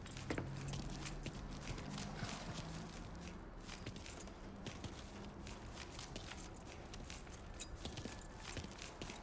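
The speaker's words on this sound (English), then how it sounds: "Lincoln, pick up the keys." Keys jangle as they are picked up in the Mafia 3 video game, light metallic clinks scattered over a low background rumble, with faint footstep-like thuds.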